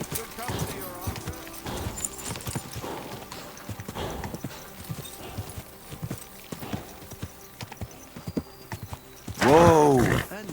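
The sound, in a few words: horse hooves and neighing, from video game Kingdom Come: Deliverance 2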